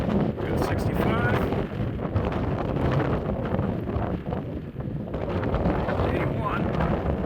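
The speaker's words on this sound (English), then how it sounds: "apologize for the noise. It is pretty windy outside." Steady, heavy wind buffets the microphone in a constant rumbling roar that barely lets up across the whole stretch.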